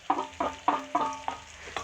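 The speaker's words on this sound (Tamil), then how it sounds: "இப்போ இது கூட இந்த வெங்காயத்தை ஆட் பண்ணிடுறேன்" Onions cook in hot oil in a kadai, with quiet sizzling under a quick, regular series of scraping stirring strokes, about six in a row.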